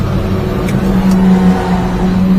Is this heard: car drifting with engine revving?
yes